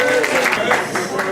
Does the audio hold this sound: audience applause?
yes